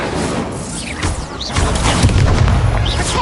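A rumbling fire-spell blast from Incendio in Hogwarts Legacy, a loud booming burst with crackling and whooshing magic effects that swells partway through and sustains to the end.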